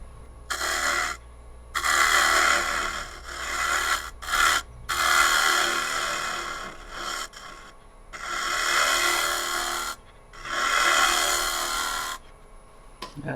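Spalted oak on a wood lathe is scraped to take out a hump, giving repeated rasping bursts of a second or two separated by short pauses, close and fairly loud, over a low motor hum early on.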